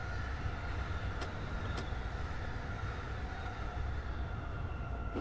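An electric commuter train in Train Simulator runs fast on a Tokyo commuter line, a steady dense rumble of wheels and motors with two brief clicks partway through.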